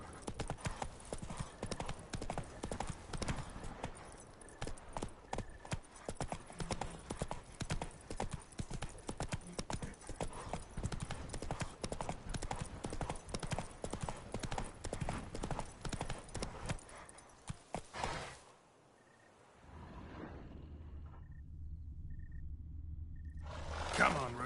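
Roach, the horse in The Witcher 3 on PS5, gallops in a fast, steady run of hoofbeats that cuts off near the end, followed by a quieter stretch of ambient game sound.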